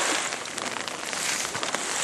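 Light rain falling through woodland on the Casque-Isles Trail, a steady hiss of drops pattering on leaves and gear with scattered louder taps, continuous and close around the listener.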